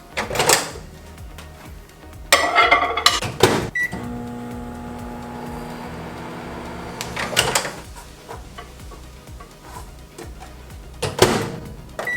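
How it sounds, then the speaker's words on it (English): A steady low microwave hum while reheating a homemade egg breakfast sandwich runs through the middle, bracketed by clattering door and drawer knocks at the start and end. "Now we're gonna get this reheated in the microwave"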